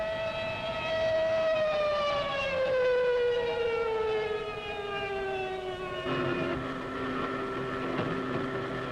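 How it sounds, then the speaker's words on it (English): World War II air raid sirens over German fighter airfields: a wailing siren slowly falls in pitch, then a second siren tone joins, rising and falling, with noisy rumbling underneath. "Alarm sirens wail over the German fighter fields"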